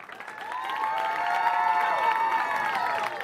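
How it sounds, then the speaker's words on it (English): A crowd at a Class B boys state basketball final applauds and cheers its two finalists, a swelling wash of clapping and shouting that holds steady for a few seconds. "how about a nice round of applause for our 2 finalists?"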